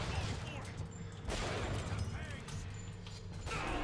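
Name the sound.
sniper gunfire in BioShock Infinite video game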